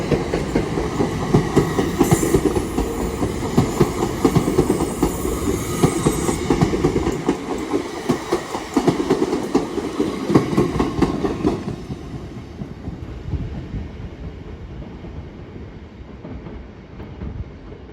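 An Esperanto Express train bound for Liverpool Lime Street rolls slowly past at Edge Hill, a steady close rumble with clattering wheels and some high squeal, fading noticeably toward the end.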